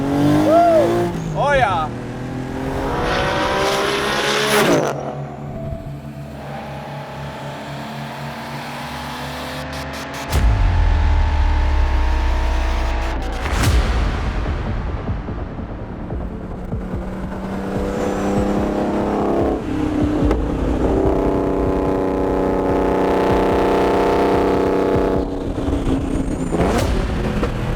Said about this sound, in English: we're gonna start this video with a first gear pull.